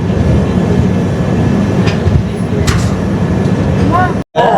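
Konark Express 11019 rumbles steadily onboard, a continuous loud rolling roar with faint clicks, cut by a brief gap near the end.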